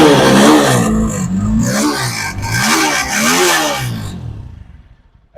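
A TVS Apache RTR 200 4V motorcycle with 28,000 km on it, its engine running loud and close as it revs up and down in several swells, then dropping away to near silence at the end.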